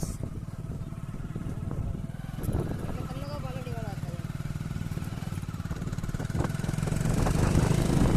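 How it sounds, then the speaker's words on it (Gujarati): A motor vehicle's engine chugs and strains as it climbs off a rough farm track onto the road, a steady mid-range drone that grows slightly louder toward the end, with voices nearby. "ગાડી ચડી ગઈ રોડ પર."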